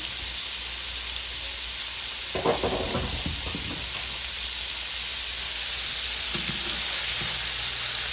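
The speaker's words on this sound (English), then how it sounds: "I turn mine over quick because of the cornmeal." Cornmeal-coated shrimp bites fry in a pan with a loud, steady close hiss and sizzle throughout, broken by a brief scraping clatter as pieces are turned, then a few softer knocks near the end.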